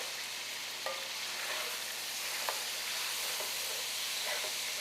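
Shrimp sizzling in a pan for shrimp and grits, a steady close frying hiss with a few faint clinks and stirring ticks scattered over the nearly five seconds.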